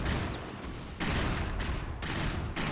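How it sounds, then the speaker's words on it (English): Explosions and heavy gunfire rumble through a battle in the video game Cosmonarchy, with dense overlapping bursts and booms returning in loud waves roughly every second, with no voices over them. "Stay clear of those explosions"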